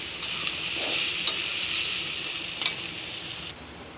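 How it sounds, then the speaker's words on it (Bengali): Banana stem (thor) fries in a pan with a loud, steady sizzle, punctuated by a few sharp clicks and scrapes as it is stirred, ending with an abrupt drop near the close. "আমার থোড় ভাজা হয়ে গেছে"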